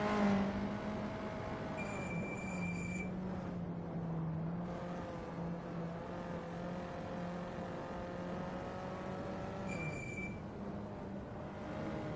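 A VW Up race car on its out lap crosses the start-finish line with a steady, moderately distant engine drone that holds a constant pitch, with faint high whine tones coming and going over it.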